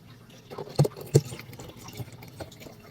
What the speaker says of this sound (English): And now we're going to fill our bottles